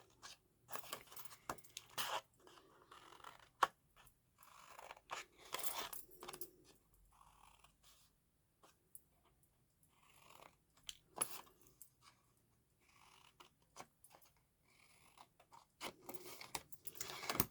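Scissors cutting a piece of card or paper for a coffin box craft, a series of quiet, crisp snips and crunching cuts in irregular bursts with silent gaps between.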